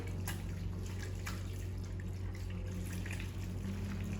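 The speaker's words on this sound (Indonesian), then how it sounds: "Buka keran air dan bilas menggunakan air." Steady hiss of running tap water with faint drips and splashes, as if hands are being rinsed, with no voices.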